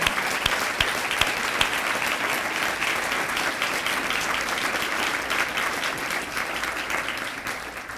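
A room full of people applauding chapter leaders at a foundation talk, dense sustained clapping close and loud, holding steady for several seconds before tapering slightly at the end.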